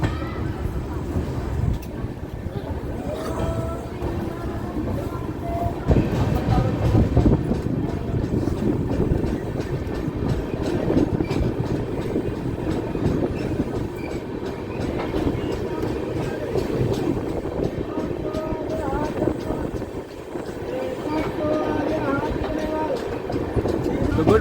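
The Danapur-Pune SF Express rumbles along just after leaving Maihar station, with steady rolling clatter and rhythmic wheel clicks heard from inside the coach, while someone talks over the noise.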